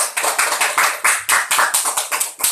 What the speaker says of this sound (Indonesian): Kasih aplaus untuk kawan kita.